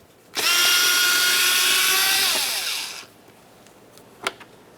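Power tool spinning out two 10mm-headed bolts from a 2007-2012 Nissan front door during window motor and regulator replacement, one steady loud whine for about three seconds, then a brief click afterward.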